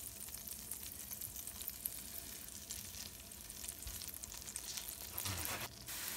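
Plantain bananas sizzle steadily in a little butter in a frying pan, a soft, even crackle held close throughout, with a brief clatter of the pieces being placed near the end.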